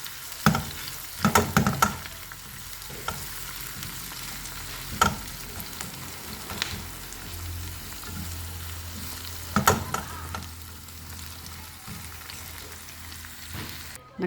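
Chicken gizzard and liver fry with white onions in a pan, giving a steady close sizzle broken by scraping stir strokes and clinks from a utensil, with no talking.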